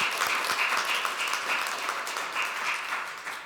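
A church congregation applauds together, steady dense clapping that fills the room for several seconds and slowly tapers at the end, with no talking over it.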